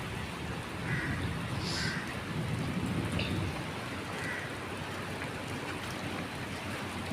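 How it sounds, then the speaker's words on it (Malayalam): Heavy rain pours down in a steady, dense hiss, with a few faint distant rumbles that may be thunder and no talking. "ഓ, ഭയങ്കര മഴ."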